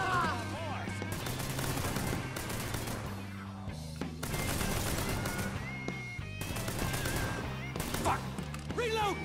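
Rapid bursts of gunfire from the Mafia 3 video game, loud repeated shots and automatic fire rattling throughout, with game sound and a voice mixed underneath.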